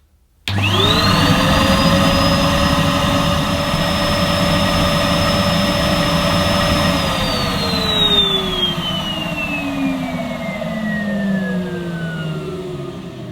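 A Henry Green vacuum cleaner runs steadily and loud from start to finish, its motor whine sliding down in pitch partway through as the suction load shifts while it is tested on a suction gauge.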